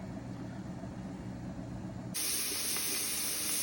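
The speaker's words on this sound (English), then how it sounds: "If you can see that steam, that's the air that's venting from the outside." Steam vents from a pressure cooker of oxtail stew, a steady loud hiss that switches on abruptly partway through over a low background rumble and continues alone.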